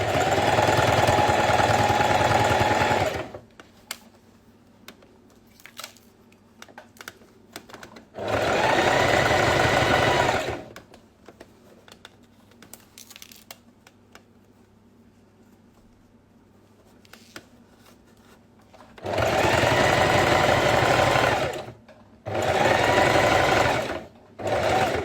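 Sewing machine stitching a school pencil case, with several loud steady runs separated by quiet pauses filled with light fabric handling and small clicks.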